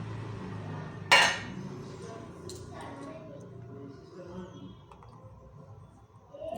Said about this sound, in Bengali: ঢাকনাটা খুলে নিলাম